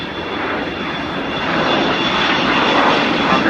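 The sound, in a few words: Avro Vulcan jet aircraft slow flypast at airshow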